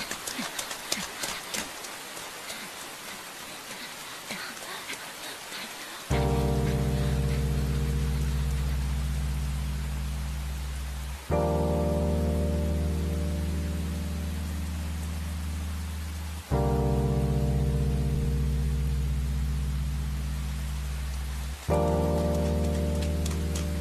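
Steady rain hisses and patters during an animated street scene, crackling for several seconds before sustained low music tones take over in long repeating blocks.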